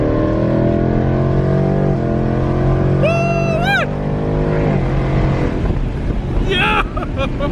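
A 2019 Ford Mustang GT V8 with a JLT cold-air intake and Lund tune pulls hard under acceleration, its engine note climbing in pitch, then dropping sharply at a quick gear shift before rising again, loud and close.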